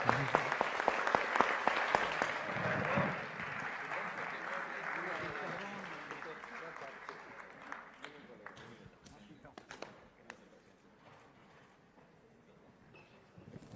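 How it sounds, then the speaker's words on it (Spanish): An audience at a panel event claps loudly at first, then the clapping thins and fades over several seconds while a few voices murmur beneath it. "Un aplauso, por favor."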